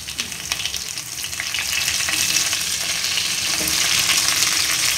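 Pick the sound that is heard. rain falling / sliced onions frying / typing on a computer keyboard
sliced onions frying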